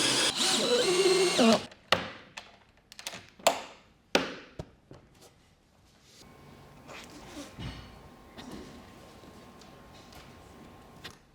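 A power drill bores a hole through the back of a wooden steam box for bending wood, loud bursts of whirring and tapping early on, then a quieter steady mechanical hum with faint clicks.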